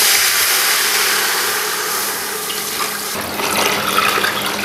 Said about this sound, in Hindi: अब जो है इसके अंदर हमने शामिल करना है पानी।